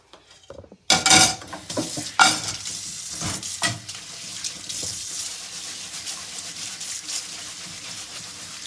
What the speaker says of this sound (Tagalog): hugasan natin ang ating mga pang-ukay